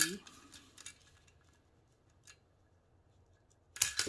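Scissors snip a V shape into paper while a party favor container is being made, a few faint close clicks followed by a sharper cut near the end, quiet overall.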